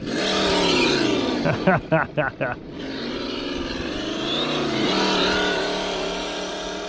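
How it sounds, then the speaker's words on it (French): An electronic sound module on an MFP Interceptor RC car plays a revving engine effect with a slipping-belt whine, loud and continuous, with a quick stuttering burst of pulses in the middle and rising and falling revs. "J'adore la courroie qui patine."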